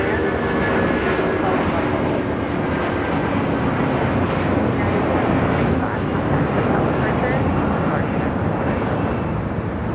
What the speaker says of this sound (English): 2495 taking off to Houston Intercontinental on a 757-200